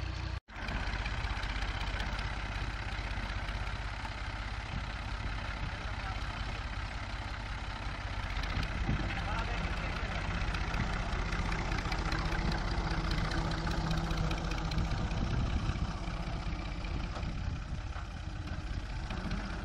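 Tractor engine running steadily while ploughing a field in rural Punjab, a continuous loud mid-to-low drone with slight swells and no talk.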